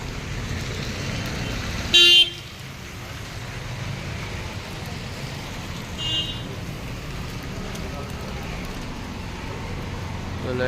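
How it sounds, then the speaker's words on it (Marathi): Cars pass steadily along a village road with a loud constant traffic roar, and a short car horn honks once near the start, then faintly again. "बघा गाड्या चालल्यात"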